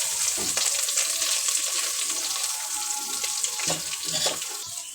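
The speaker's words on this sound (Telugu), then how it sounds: "ఆయిల్ హీట్ అయిన తర్వాత ఇంగ్రీడియంట్స్ అన్నీ వేసేసుకుందాం ఇవి కొద్దిగా వేగి" Whole spices fry in hot oil for vegetable pulao, producing a bright continuous hiss and sizzle close up with a few soft stirring knocks.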